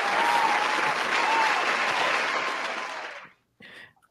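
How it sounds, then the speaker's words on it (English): Loud applause from a live podcast audience fills the room for over three seconds, then cuts off abruptly, followed by a brief softer burst of clapping. "Can we get a round of applause?"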